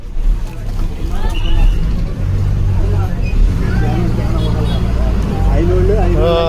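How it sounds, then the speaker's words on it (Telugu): A Tenali–Kotturu bus pulls away, its engine rumbling low and loud and rising as it moves off, with passengers chattering throughout. "తెనాలి కొత్తూరు లంగ్ బస్సు బయలుదేరింది."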